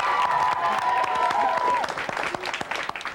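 A school crowd of middle-school students with their teacher claps and cheers loudly, a dense burst of applause with a whistle-like tone riding over it before the clapping thins out.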